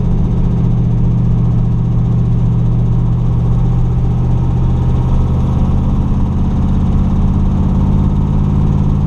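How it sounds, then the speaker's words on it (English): A 1965 Chevrolet Corvette with side pipes drives steadily past, its engine a loud, continuous low rumble that swells slightly as it takes a corner, with no voices over it. "Those side pipes sound awesome."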